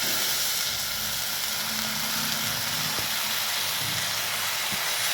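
Eggplant dropped into a hot pan with red chili powder and spices, sizzling loudly and steadily throughout, a dense close hiss with faint clatter underneath.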